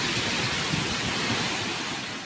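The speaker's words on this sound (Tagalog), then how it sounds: "Tuloy-tuloy na buhos ng ulan" Heavy, steady typhoon rain in Catanduanes pours down as a dense, loud hiss, with no voices over it.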